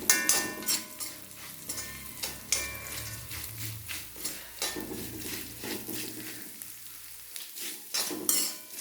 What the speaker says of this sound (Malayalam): അപ്പോൾ ഇതിനകത്തോട്ട് നമുക്ക് അവിൽ ഇട്ട് കൊടുക്കാം.